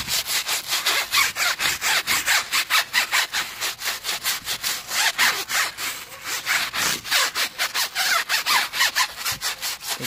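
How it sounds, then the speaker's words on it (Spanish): A brush scrubs a car wheel rim in steady, fast back-and-forth strokes, a close, continuous rhythmic rasping with no talk. "podemos empezar a limpiarla, ya sea con el cepillo. Le damos una tallada."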